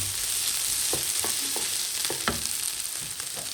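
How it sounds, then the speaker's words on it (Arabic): Onions caramelize in a frying pan with a steady, bright sizzle, punctuated by a few soft knocks and stirring scrapes. "هانتوما اللي كتعسل لنا البصله بحال هكا"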